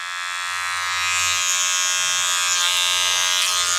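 A Wahl Cordless Detailer Li edge-up trimmer running steadily, a close, loud, high-pitched electric buzz that holds constant throughout, with no voices over it.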